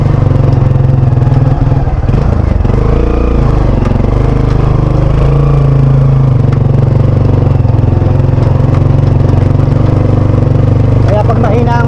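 A motorcycle engine labours loudly and close while climbing a steep uphill road, a heavy, rough low drone with clattering that holds steady throughout, as people talk over it.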